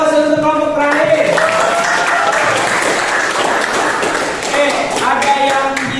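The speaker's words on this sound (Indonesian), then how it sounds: "kasih aplaus untuk kelompok terakhir" Classroom group applauding the final presenting group, dense hand clapping from many people filling the room, loud and sustained for several seconds with voices talking over it.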